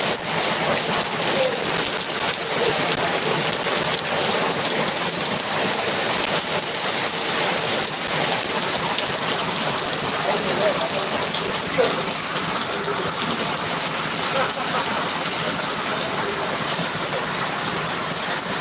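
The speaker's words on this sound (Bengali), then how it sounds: "আবারও কিন্তু একদম বৃষ্টি শুরু হয়ে গেছে" Steady morning rainfall pours down in a dense, continuous hiss with a broad wash of patter on surfaces, loud and close throughout with no voices.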